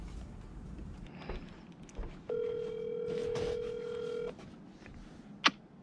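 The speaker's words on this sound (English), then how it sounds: "here's the clip of me calling Jordan." Placing a phone call brings a steady ringback tone of about two seconds after faint background noise, followed by a brief sharp click near the end, quiet overall with no talking.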